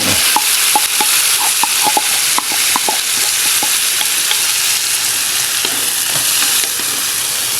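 Sticky mung beans hit a hot pot and sizzle loudly and steadily, with scattered scraping and clacking taps of stirring throughout, close and continuous.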